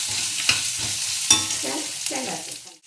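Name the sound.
lightly sautéing roasted coconut in pan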